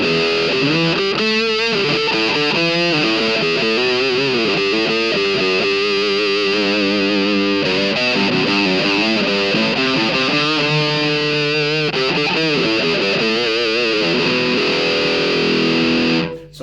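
A distorted electric guitar played through an overdrive pedal plays a sustained, gritty riff with a shifting, wah-like tone, loud and continuous without any talking.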